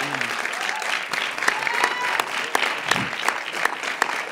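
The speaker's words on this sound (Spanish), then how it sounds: "Un aplauso" An audience applauds at a results announcement, sustained clapping from a crowd with sharp individual claps standing out, fairly loud and steady, while a voice speaks faintly over it.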